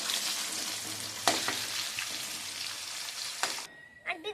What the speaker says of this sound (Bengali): এই দেখো কুমড়োটা ভাজা হচ্ছে এই যে